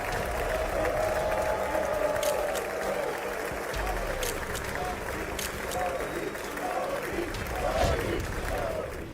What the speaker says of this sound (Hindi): अमेरिकी संसद में नरेंद्र मोदी के लिए कितनी बार तालियां बजीं?